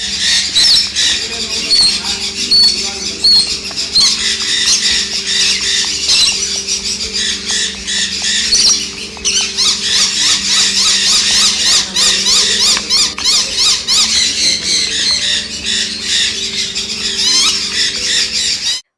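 Birds squawk and screech repeatedly, loud and close, at an exotic pet shop, with a voice speaking underneath at times.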